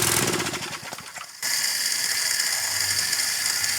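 A clogged pressure washer being switched on mid-inspection, a dense, steady mechanical hiss and drone starting abruptly and running loud and continuous after earlier clattering handling noises.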